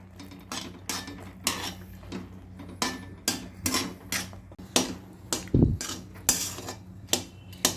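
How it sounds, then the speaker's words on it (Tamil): A cooked dish is stirred in a pot with the stove switched off: a utensil scrapes and clinks against the pot in a steady, repeated rhythm, close up, with no talking. "இப்போ நம்ம ஸ்டவ் ஆஃப் பண்ணிவிட்டு இதை நல்லா கலக்கி விட்டுக்கலாம்"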